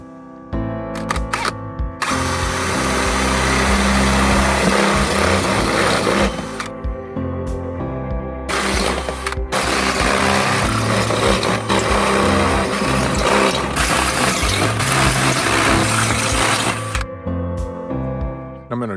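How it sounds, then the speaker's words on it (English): A power drill bores holes into the side of a metal fire pit at an off-grid camp, loud close grinding bursts running several seconds each with short pauses between. "I'm gonna drill some holes in the side of this fire pit"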